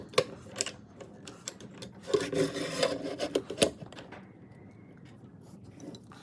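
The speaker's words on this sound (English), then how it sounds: "I have to go back over with the chisel really quickly and resand that whole tip over there." A chisel scrapes a thin wooden pen tip spinning on a lathe, with a burst of rasping cuts in the middle and a quieter steady whir before and after.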